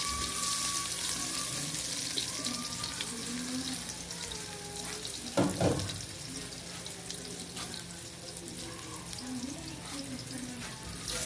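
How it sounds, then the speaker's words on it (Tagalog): Onions sautéing in a pan as a base for corned beef, a steady broadband sizzle running throughout with faucet-like water noise mixed in and a brief louder clatter midway, no voices. "magigisa na ako ng sibuyas para sa corned beef natin"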